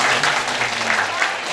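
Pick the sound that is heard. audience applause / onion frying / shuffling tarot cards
audience applause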